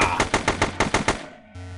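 Rapid automatic fire from a weapon in the Kepler22 shooter game: about eight evenly spaced loud bursts in quick succession, then a short fade into quiet game ambience, with no talking.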